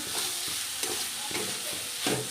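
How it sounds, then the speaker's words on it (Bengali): Red spinach stirred as it fries in a pan, with steady sizzling under a few soft scraping strokes of the spoon, close and alone. "আমি এবার ভালো করে নেড়ে দেবো"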